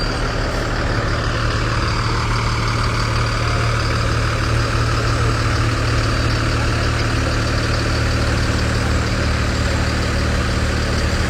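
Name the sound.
fire engine idling in a parade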